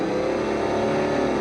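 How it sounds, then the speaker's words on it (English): A Halo vehicle engine blends a two-stroke growl with a deep four-stroke exhaust into one loud, steady, throaty roar that runs without a break. "you can hear the growl of the two-stroke. Then you got this really growly, 4-stroke, huge sounding exhaust."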